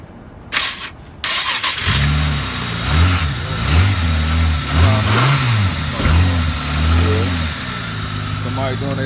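A used car at a dealer auto auction cranks over with a short burst, catches, then revs repeatedly, its engine pitch rising and falling in close, loud swells against a noisy outdoor background.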